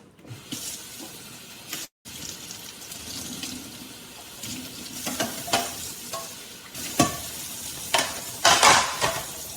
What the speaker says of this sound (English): I'm gonna fry my green tomatoes for breakfast